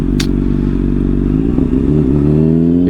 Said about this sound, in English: If you guys like the sound of my exhaust